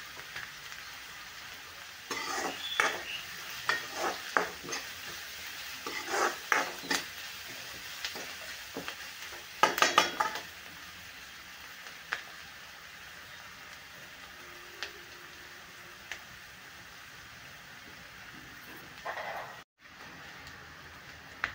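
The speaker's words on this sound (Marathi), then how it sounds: "आता हे आपल्याला कांदा छान मस्त लाल होईपर्यंत परतून घ्यायचा आहे" Onion frying in a pan for dhaba-style whole masoor dal, a soft continuous sizzle broken by bursts of scraping and stirring with a spatula against the pan, fairly quiet and close, with no voices.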